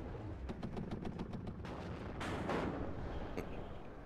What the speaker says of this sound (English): MI8 supply taken out by the artillery.